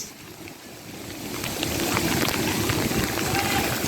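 Heavy rain and flash flood water rushing across a road in Phoenix, a loud, broadband roar of downpour and churning water that swells and stays dense, with voices faintly underneath.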